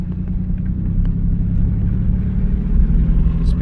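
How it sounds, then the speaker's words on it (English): Low, steady engine and drivetrain rumble from a 2009 Dodge Nitro pulling away from a stop, with the automatic transmission shifting harshly into second gear; the droning hum stays close and loud throughout, with no talk. "That was the transmission shifting abruptly into second gear."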